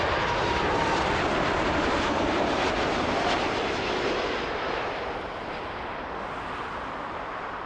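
An Air Canada jet landing on runway 06 right at Toronto Pearson airport, a loud continuous engine roar that slowly fades as the aircraft passes, heard outdoors with no talk.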